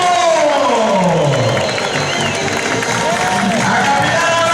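Outdoor carnival crowd at an Entroido race in Vigo, a dense, steady roar of cheering and applause with shouting voices throughout, loud and close.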